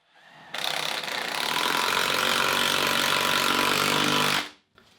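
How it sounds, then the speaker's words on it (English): A Ridgid 12V palm impact driver drives a 1 5/8 inch alkali-resistant screw into cement board with a waterproofing layer, producing one loud, continuous rattling hammer-buzz for about four seconds that stops suddenly. "be putting in 1 5/8 inch alkali-resistant screws here. We'll see how this works."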